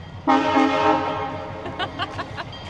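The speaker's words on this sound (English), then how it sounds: "the trains run like constantly, which is kind of really cool" Train horn in Skagway, Alaska, blaring one long steady tone that fades out, followed by clanking rail cars rolling past, fairly near with no talking.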